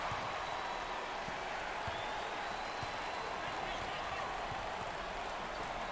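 Crowd noise in a basketball arena during a close 2020 NCAA tournament first-round game between New Mexico and Kentucky, a continuous roar of cheering and clapping with sneaker squeaks and thuds mixed in, under a commentator's steady talk.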